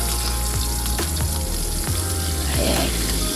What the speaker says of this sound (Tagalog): Ipiprito muna po natin siya.